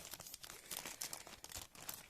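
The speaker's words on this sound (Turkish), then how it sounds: "Şöyle kargomuzun poşetini açmaya çalışacağım arkadaşlar ilk başta." A plastic shipping bag holding an electronics order is pulled open, giving close, quiet crinkling and tearing rustles in irregular bursts, with no one talking.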